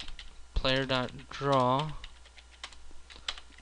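Computer keyboard typing while writing XNA game code, quick light key clicks running faintly under a man's speech and continuing softly after he pauses.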